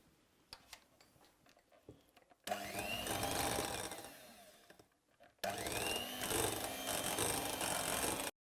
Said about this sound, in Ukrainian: Коли ми взбили міксером, ручним міксером е, сир з згущеним молоком